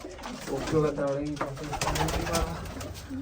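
Soft, close pigeon cooing in a rolling, repeated pattern, with a person talking over it.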